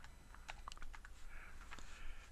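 Quick, light taps on a computer keyboard as a name is typed into a note-taking program, a short burst of soft, close clicks with no talk.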